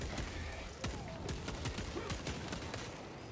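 Rapid bursts of gunfire in Space Marine 2 as barb stranglers are shot, a dense volley of sharp cracks over a few seconds, moderately loud with no talk.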